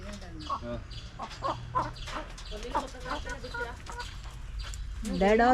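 Chickens cluck and chatter in their new coop at a small chicken farm, with repeated close calls over a steady murmur of birds and rustling, ending in a louder burst of activity.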